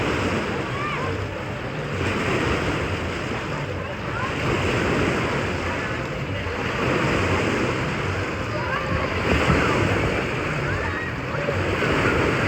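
Wave pool at Disney's Blizzard Beach water park, a continuous rushing wash of surf with gusty wind buffeting the microphone, swelling and easing in broad surges, with distant people faintly in the background.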